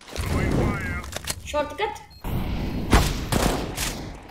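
Gunfire from the video game CS GO crackles in short bursts through the back half, with a loud shot near the middle, while players talk over it throughout.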